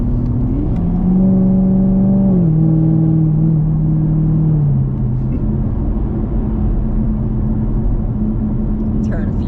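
A supercharged Chevrolet Camaro SS engine rumbles deep and loud, its pitch climbing and settling as it revs, heard from inside the car with the windows up and a steady drone.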